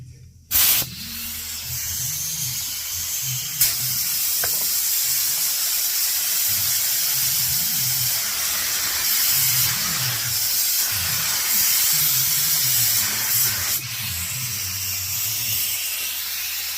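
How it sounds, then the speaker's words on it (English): A paint spray gun lays clear coat over the paint of a 2016 Camaro, producing a close, continuous, loud hiss of spraying that holds steady throughout, with brief pauses of the trigger and faint low background noise. "Set your gun per the instructions, and shoot the clear."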